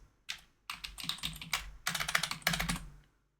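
Bursts of rapid key presses on a computer keyboard, close and crisp, in short clusters separated by brief pauses, with no voices.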